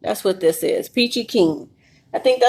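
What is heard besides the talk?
No distinct noise like a dog, phone or traffic.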